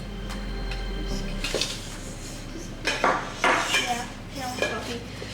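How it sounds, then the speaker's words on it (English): A whisk clatters rapidly against a bowl while cupcake batter for mint chocolate chip cupcakes is beaten by hand, with irregular metallic taps and scrapes up close. "I have to whisk mine by hand."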